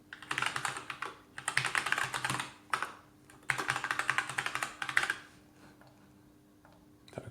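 Someone types a name on a computer keyboard to sign up, producing quick clustered bursts of clicking keys, close and fairly quiet, with short pauses between runs.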